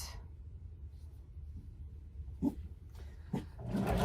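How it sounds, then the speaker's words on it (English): A Cocker Spaniel barks indoors: two short, fairly faint barks about a second apart, followed by rising rustling over a steady low hum. "There's my trusty Cocker Spaniel. I'm going to have a little bark."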